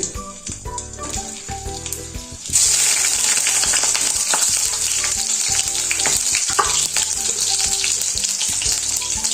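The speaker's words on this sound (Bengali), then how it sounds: "এরপর তেলের মধ্যে দিয়ে দেব আলু।" Loud, steady sizzling of potatoes frying in hot oil, starting abruptly and continuing with clinks and stirring scrapes throughout.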